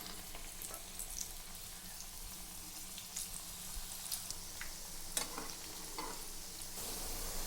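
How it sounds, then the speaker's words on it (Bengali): Small spoonfuls of drumstick flower pakora batter frying in hot oil, giving a soft, even bubbling sizzle with occasional faint pops and spoon clinks, fairly quiet and close. "এখন আমি তেলের মধ্যে ছোট্ট ছোট্ট বড়া করে করে ঢেলে দেবো।"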